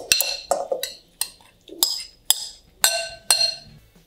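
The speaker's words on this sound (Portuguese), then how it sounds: "Vou colocar na panela." Several pieces of food drop one after another into a metal pan, each landing with a bright clink and rattle, close by, about eight in an irregular rhythm.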